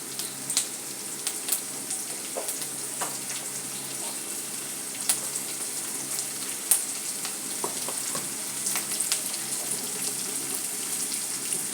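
Onions cooking in a pan for a vadiyala curry, a steady close sizzle of frying with scattered small pops and occasional light scrapes throughout.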